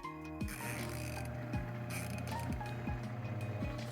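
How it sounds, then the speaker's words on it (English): A small portable washing machine runs with a steady mechanical hum and repeating clicks and clunks at about one-second intervals, close by with no talking. "So for camp, we decided to get this little portable wash machine."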